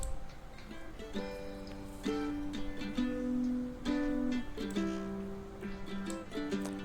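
Mandolin from a song after EQ: plucked chords and sustained notes changing every second or so, steady and moderately loud, with no voices over it.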